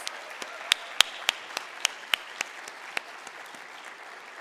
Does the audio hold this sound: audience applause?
yes